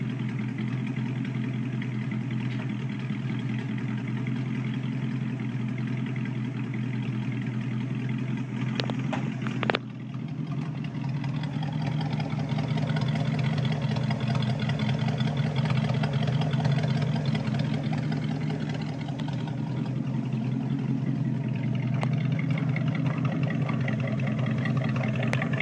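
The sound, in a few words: 1966 AMC Marlin 327 engine idling, dual exhaust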